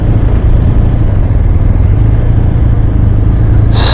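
A BMW R 1250 RS motorcycle engine pulls under steady throttle, a loud, continuous low rumble with a constant drone throughout and a brief burst of wind or hiss at the very end.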